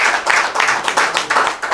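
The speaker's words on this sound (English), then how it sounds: "Can we clap for the sign?" An audience claps together in a steady, fairly loud burst of applause, with the clapping sustained throughout and no voices standing out.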